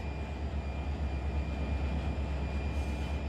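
Santa Fe BNSF SD45 locomotive in the Run 8 train simulator game, a steady low diesel rumble with a broad rolling rail noise, continuous and fairly close for the whole stretch, no voices over it.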